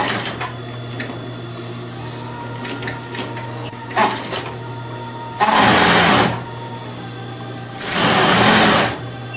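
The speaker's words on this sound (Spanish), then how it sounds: "por toda la orilla del elástico, le hacen una puntadita" A sewing machine stitches along the elastic edge of a tulle skirt in two loud bursts of running stitches, with a quieter motor hum and light handling noises between them and no talking.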